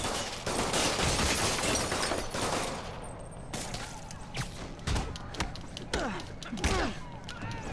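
Rapid video game gunfire in Marvel's Spider-Man: dense, loud bursts of shots and thuds, followed by scattered single hits and whooshing effects, with brief voices mixed in.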